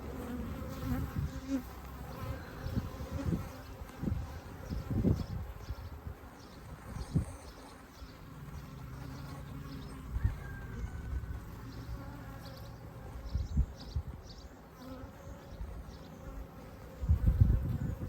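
Many honey bees buzz steadily up close during a hive inspection, a dense droning hum with occasional louder passes as individual bees fly near.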